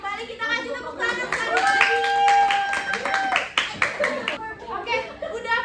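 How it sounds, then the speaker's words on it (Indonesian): Classroom clapping during a microteaching session, hands clapping in an uneven rhythm amid children's voices and chatter, with a bright tonal whistle-like sound sustained through the middle. "Boleh kembali kita kasih tepuk tangan"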